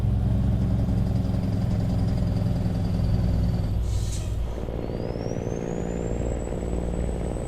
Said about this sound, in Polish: Włączyłem sobie w opcjach automatyczne hamowanie silnikiem. Naprawdę fajny dźwięk oddaje podczas hamowania.